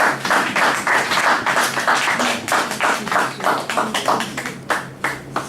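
A church congregation clapping in steady rhythmic acclamation, a dense sustained wash of many hands from start to end, fairly loud and close.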